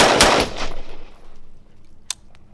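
A carbine rifle fires a loud, sharp shot that rings out and decays, followed about two seconds later by a second, quicker crack, with no voices.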